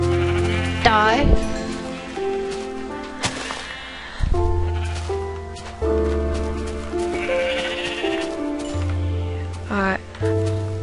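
Sheep bleat in the video game Minecraft, several loud wavering cries spaced across the stretch alongside game sounds, with a person talking over them.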